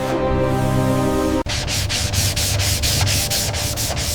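Steady hand sanding of a Rolls-Royce Phantom II during restoration, a rough rhythmic rubbing of abrasive paper over the surface, with repeated strokes close by after a brief pause near the start.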